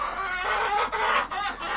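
Hens cluck and a rooster calls in a steady, close chorus of overlapping poultry sounds, with no talking.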